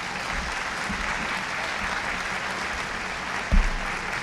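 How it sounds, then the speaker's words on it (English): Sustained audience applause fills the room at the close of a stage talk, dense and steady throughout, with a single sharper thump near the end. "she's applauding for me to get off the stage"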